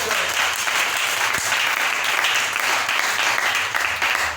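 A church congregation applauding to acclaim the Lord: steady, dense clapping from many hands that fills the whole moment, loud and continuous.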